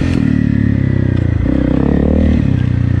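A Honda CRF 250 Rally dual-sport motorcycle fitted with an FMF PowerCore 4 exhaust runs nearby with a loud, steady, throbbing engine note, rising slightly in pitch midway as it rides off-road.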